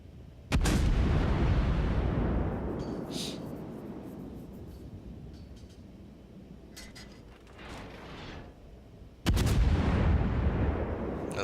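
Battleship main guns fire full salvos in a World of Warships-style naval game aboard the Roon, two loud booming volleys several seconds apart, each followed by a long rumbling decay with faint distant shell impacts.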